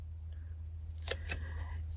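Scissors snip through a strip of tape in two quick, close cuts around the middle, over a steady low hum and a quiet room.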